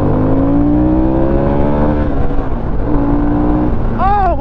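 A 2022 Harley-Davidson Sportster S accelerates hard on a demo ride, its engine droning loud and close with rising pitch, a rider's voice briefly over it near the end.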